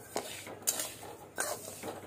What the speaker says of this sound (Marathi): आधी असं ढवळत राहायचे, हलकेसर भाजून घ्यायचे